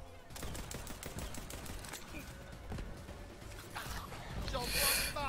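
Atlas gun in Borderlands 3 firing in a steady rapid burst of sharp shots, sustained throughout under game effects, with a bright whooshing effect near the end.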